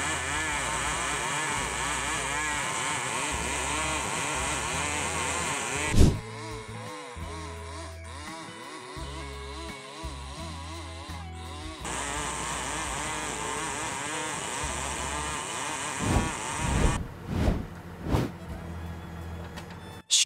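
A Stihl 070 chainsaw with a long bar cuts lumber, its engine roaring loud and near, dropping to a lower note partway through and then climbing again, with a few knocks near the end.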